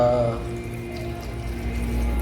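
Water runs steadily from a tap into a pot, a continuous close hiss with a brief hum at the start.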